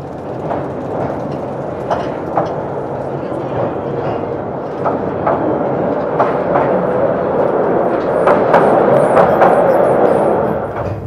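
A salt mine train rolls along rails, a steady loud rumble with rhythmic clickety-clack of wheels over joints, building slightly as it moves, with people talking over it.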